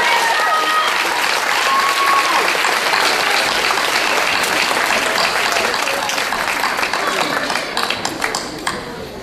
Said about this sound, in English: would you please stand for a round of applause, another round of applause?